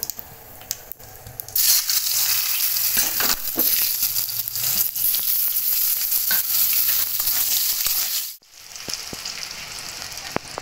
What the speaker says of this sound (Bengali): তেজপাতা ফোড়ন, এবার দিয়ে দেবো আলু